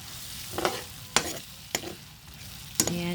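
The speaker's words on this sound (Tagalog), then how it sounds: "Ayan, igisa natin for a few seconds." Garlic and onion sautéing in melted butter for carbonara make a quiet sizzle, broken by a few sharp scrapes and clatters of a spoon stirring in the pan.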